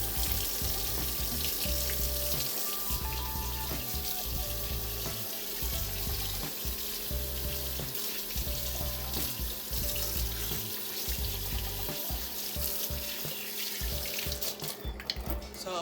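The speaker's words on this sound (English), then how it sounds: "So I wash my hands." Tap water runs steadily into a kitchen sink holding a few dishes while hands are washed, a continuous close splashing flow with small shifts in texture throughout and no talking.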